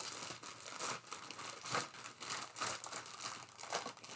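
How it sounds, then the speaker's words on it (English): Plastic wrapping peeled off a box of yarn, crinkling and tearing in a busy, continuous rustle for several seconds, close and fairly loud, with no voices. "So, some plastic unwrapping noise."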